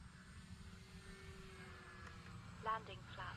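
An electric E-flite Cirrus SR22T RC model airplane flies at a distance with a faint, thin propeller whine under steady background noise, and a brief voice-like sound near the end.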